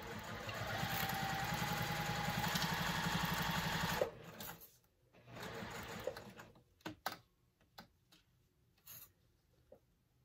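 Sewing machine back stitching along the lining of a tote bag, a steady, close motor whir for about four seconds, then stopping into scattered handling sounds and soft fabric rustle.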